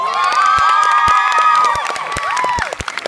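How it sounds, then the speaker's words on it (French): An audience at a cinema premiere of an Aladdin film cheers, whoops and claps loudly throughout, with children's shouts rising over a dense, sustained roar of the crowd. "Il s'appelle William, on peut l'applaudir très fort."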